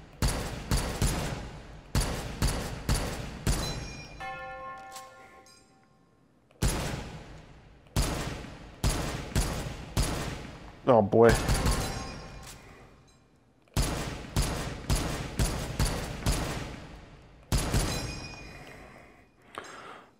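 An M1 Garand rifle fires in a VR shooting game, loud sharp shots in quick rhythmic strings of several rounds each, separated by pauses with metallic reload clinks, and someone briefly speaks between volleys.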